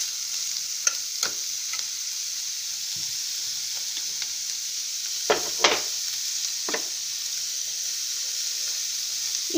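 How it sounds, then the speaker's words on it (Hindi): Carrots and peas frying in oil for savory vermicelli upma, with a steady sizzle and scattered scrapes of a spoon stirring the pan, close and moderately loud, no talking. "इसमें गाजर, मटर सब इसमें डाल के आप इसको थोड़ा सा चला लीजिए ताकि तेल में ये मिक्स हो जाए"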